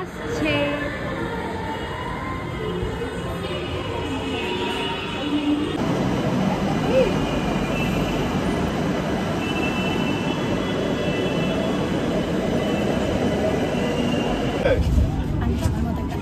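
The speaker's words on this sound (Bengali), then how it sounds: "মেট্রো আসছে" A metro train pulling into a station, a loud low rumble that swells partway through and holds steady, with voices in the background.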